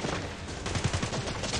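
Rapid bursts of gunfire from the Free Fire video game intro, a quick rattling volley of shots at moderate level, mixed with game music and effects.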